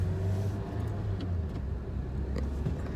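A car with a manual gearbox hums and rumbles steadily from inside the cabin while being driven and shifted up into third gear, the engine tone dipping slightly partway through; no talking.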